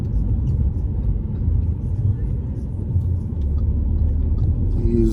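A car drives through rainy Belgrade city-center streets, a steady low engine and road rumble with tire noise on wet pavement running continuously throughout.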